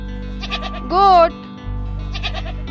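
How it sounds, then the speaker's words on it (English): A single wavering bleat of a goat rings out clearly, with faint animal-like chatter before and after. "for goat."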